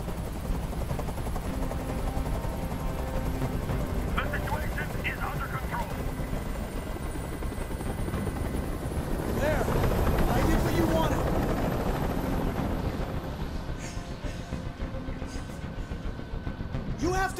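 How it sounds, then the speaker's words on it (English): A helicopter's continuous low rotor thrum and engine drone dominate throughout, loud and steady, swelling toward the middle with bursts of sharper noise, while people speak over it at times. "I can't stand that noise anymore. Tell that helicopter to get out of here."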